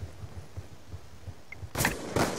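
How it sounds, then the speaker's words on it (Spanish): Two sharp, loud gunshots ring out in quick succession from Call of Duty: Black Ops 2, following a stretch of low rhythmic thumping. "Disparo efectuado."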